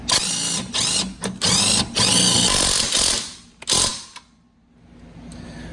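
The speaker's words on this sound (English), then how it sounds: "I take my 16mm and tighten it down" A 16mm wrench tightens a sway bar link on a Fiat 500 with rapid, close, buzzing ratchet bursts in several short runs, separated by brief gaps, before it goes quiet.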